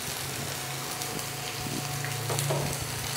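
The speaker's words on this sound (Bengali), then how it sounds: "ভালো করে একটু ভেজে নেবো" A spiced filling for stuffed bread pakora fries in a pan, giving a soft, steady crackling sizzle, with a few stirring scrapes near the end.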